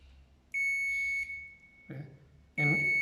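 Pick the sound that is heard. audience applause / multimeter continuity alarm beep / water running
multimeter continuity alarm beep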